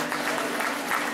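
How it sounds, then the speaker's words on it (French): Audience applause for a performer back on stage after several years away, a steady wash of many hands clapping fairly close, continuous through the short stretch with no voices on top. "On peut l'applaudir très très fort."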